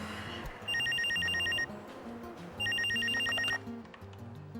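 Telephone bell ringing in two long electronic bursts with a pause between, heard indoors over low background music with no one speaking.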